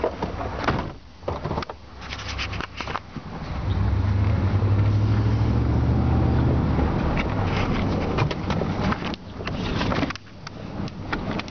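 A 2003 Dodge Dakota four-door pickup with a V8 and new exhaust pulls away, its engine droning steadily and close by with a low rumble, after a door thud and cabin clatter.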